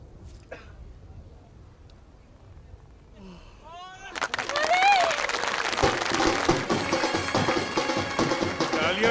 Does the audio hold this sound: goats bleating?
no